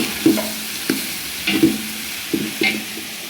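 Green chili paste is stirred and fried in a pan for Khanavalli-style potato palya: a steady low sizzle under about six sharp scraping strokes of a spoon, close and alone.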